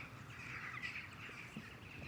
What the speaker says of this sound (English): The birds are singing, the sun is out.